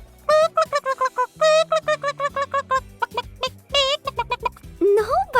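A voice imitates a chicken clucking in a Day of the Dead themed 3D animated movie, giving a loud, close string of quick rhythmic cluck bursts that end in a rising squawk.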